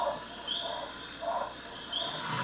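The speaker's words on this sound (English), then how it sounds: "Stewart has the last known recording of the golden Panamanian frog" A golden Panamanian frog calls in a recording, short repeated chirping notes spaced about every half second over a dense steady insect-like background buzz.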